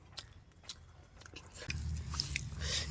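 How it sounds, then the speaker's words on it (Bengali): Someone eating soft boiled rice with mashed potato and boiled masoor lentils on a winter morning, with close, soft chewing and wet mouth sounds, quiet at first and then growing steadier and louder, with no talk. "আমি হচ্ছে এবারে খাচ্ছি ডাল সিদ্ধ দিয়ে"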